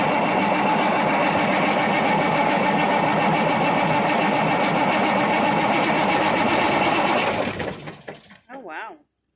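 A 1986 International Harvester 9670 cabover truck with a Big Cam Cummins diesel rumbles loud and close in a dense, steady roar, then cuts off abruptly, followed by a short voice.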